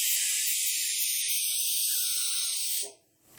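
A pressure cooker of beans on the stove lets out a loud, steady, hissing steam whistle that runs for about three seconds and then cuts off sharply.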